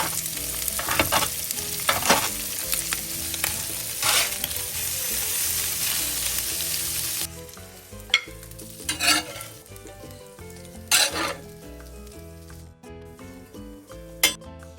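Veal tongue pieces frying in butter in a pan, a bright crackling sizzle with repeated scraping and clinking of a utensil against the pan, close and fairly loud, dropping to a quieter sizzle partway through.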